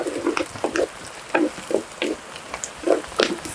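Sliced onions and torn green chillies fry in a pan for an Andhra mango and murrel fish curry, with repeated short scraping stirs over a low, steady sizzle, fairly close and alone.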